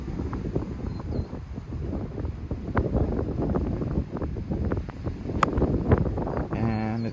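Steady wind buffets the microphone on a golf course at El Rio Golf Club in Tucson, Arizona, a continuous low rumble with gusty bumps throughout and a brief faint tone near the end.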